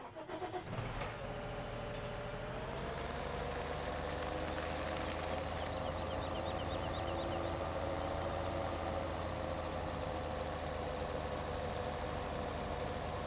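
The tractor used for unloading in Farming Simulator 17 starts with a brief rev, then settles into a steady, loud mid-pitched engine drone that runs unbroken to the end.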